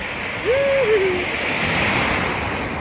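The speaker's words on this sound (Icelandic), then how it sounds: "En öldunar eru helviti kraftmiklar." Powerful ocean waves break on a beach at sunset, a steady broad surf roar with wind noise across the microphone throughout.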